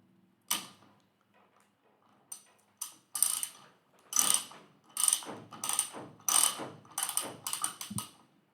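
Ratchet wrench applying torque to a sensor test setup, a few sparse clicks at first and then a quickening run of sharp ratcheting clicks in short bursts, close and fairly quiet.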